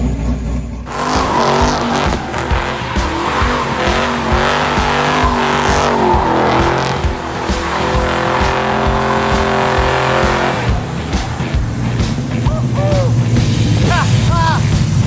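A 1971 Formula car roars loud and close with its engine revving hard and its tires squealing and skidding, a steady dense racket that runs the whole time, with a few brief higher squeals near the end.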